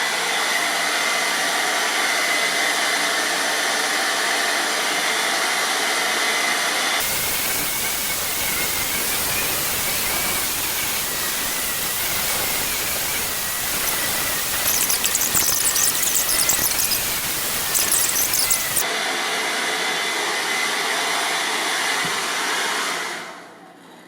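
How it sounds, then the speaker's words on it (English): Hair dryer blow-drying hair on high air at a warm temperature, a loud, steady whooshing roar with a whine, shifting in tone as the airflow moves against the hair for a long stretch before cutting off. "So we're going to have high air, warm temperature."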